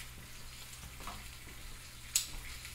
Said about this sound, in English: My bacon's cooking.